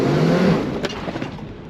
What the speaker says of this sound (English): Is it gonna do a burnout?